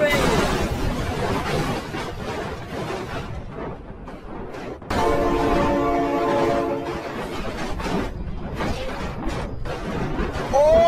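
A train rumbling and clattering in a cars long-slide toy game, with a sustained horn blast sounding in the middle, loud and close, while excited voices shout over it.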